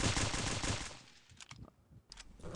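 An M16 rifle in the game Stick Warfare Blood Strike, firing a fast dense burst at first, then thinning to a few sharp separate shots with short gaps, moderately loud.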